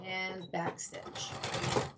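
A sewing machine back-stitches quilt fabric with a short, close mechanical whir and rapid needle chatter. A person talks over it.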